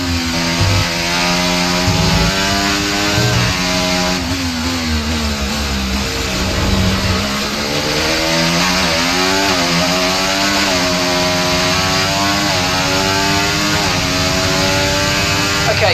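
An F1 car in overtake mode screams on track at Portimao in the game F1 24, its loud engine whine rising and falling through gear shifts, continuous and close.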